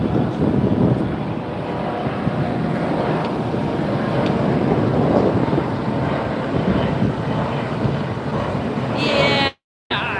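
Airplane departing at Los Angeles Airport, a loud steady broadband jet roar heard from outdoors with wind buffeting, sustained throughout and cut off abruptly near the end, with no talking.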